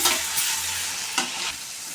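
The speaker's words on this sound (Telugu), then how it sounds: "కలుపుకోవాలి బాగా కలుపుకోవాలి ఇది పచ్చివాసన పోయేంత వరకు పగ్గనిద్దాము" Onions fry in a pan under a loud, close, constant sizzle, with two or three scraping strokes of a spoon as they are stirred.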